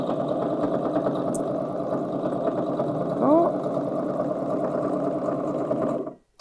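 A sewing machine stitching through the thick layers of a reversible vintage clutch bag, an even, fast-running hum for about six seconds that stops abruptly.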